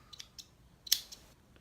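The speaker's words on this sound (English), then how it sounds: "Just put your scissors in it, clip it off, and there you go" Scissors snip through loops of homemade streamer dubbing in a few quiet, sharp clicks, with one louder cut near the middle and small snips before and after.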